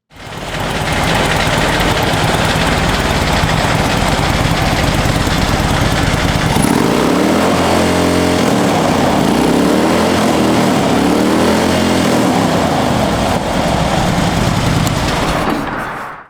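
A 2011 Harley-Davidson Road King motorcycle engine rumbles loudly and steadily up close, with a lumpy idle and a couple of throttle swells mid-way.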